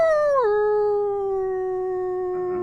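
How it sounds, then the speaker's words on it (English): A pet dog gives one long, clear howl that starts high, slides down and then holds a steady drawn-out tone, close and loud, ending with a faint rising yip. "like a long howl"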